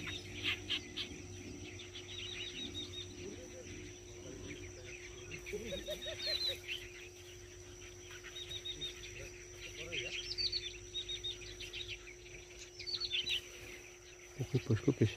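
Repeated high chirping calls of a wambi bird ring out in short phrases over a steady insect drone, with other birds and occasional rustling nearby.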